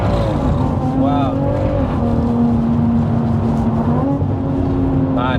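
A big-turbo BMW M140i hatchback engine pulls hard from inside the car, its loud droning note rising and dipping through quick gearshifts while someone talks over it.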